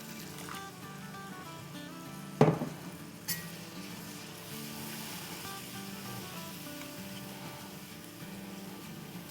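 A tablespoon of water poured into frying biryani masala with ginger and garlic sets off a sudden loud hiss and splutter, then settles into a steady soft sizzle.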